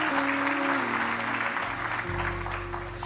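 Congregation applauding in church during an evening sermon, steady clapping throughout with sustained organ or keyboard chords beneath.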